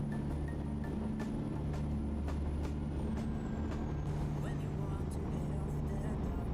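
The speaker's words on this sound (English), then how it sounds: "your brake sounds better on that truck" A semi truck's air brake hisses in a truck simulator game, with a low steady engine drone and road rumble throughout and a faint tone gliding downward midway.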